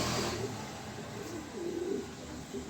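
Soft, low cooing of pigeons at close range, a few rolling coos rising and falling over a faint background hum.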